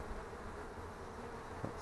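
Honeybees buzz in a queenless colony's hive during an inspection, forming a dense, continuous close-up hum with individual bees droning by, steady and unbroken, with no voices.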